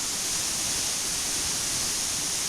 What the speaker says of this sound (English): Secret waterfall.